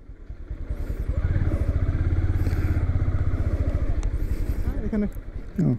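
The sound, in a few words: motorcycle being parked in a garage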